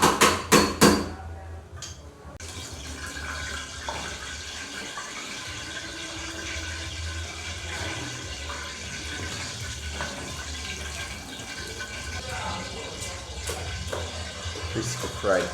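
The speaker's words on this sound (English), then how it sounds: "You can see the coconut juice that's bubbling up here now up on the side." Coconut juice bubbling up the sides of a large curry pot at a Jamaican street food stall, a steady liquid gurgle under busy market clatter, knocks and distant voices.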